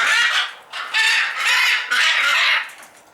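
Macaw parrots outdoors in snowy winter give loud, harsh, raspy squawks. There are about four close, drawn-out calls in quick succession, with no talking.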